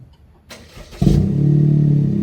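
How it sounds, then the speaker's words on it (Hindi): A tuned Toyota Raize with its exhaust cutoff closed cranks and fires at about one second, then settles into a steady, fairly loud idle with a deep hum, recorded close by with no talking. "सबसे पहले गाड़ी की आवाज चेक करते हैं स्टार्टिंग पे"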